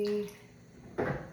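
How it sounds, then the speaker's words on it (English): Water pouring into a bowl while mixing sourdough bread dough, a short close splash that starts abruptly after a quiet moment and then trails off. "I am doing 325 grams of water."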